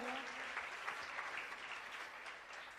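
An audience claps to welcome guests being introduced at a ceremony, a continuous patter of many hands that sounds soft and somewhat distant, with no voices over it.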